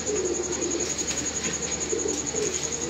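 Soft, steady cooing of pigeons close by, a low murmuring that rises and falls over a constant background hum.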